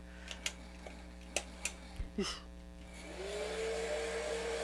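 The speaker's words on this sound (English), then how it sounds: "I'm going to use my my older heat gun for this because it dries faster." An older heat gun blasts steady, loud airflow while drying feathers, rising out of a few faint ticks and clicks and holding as a continuous close whoosh to the end.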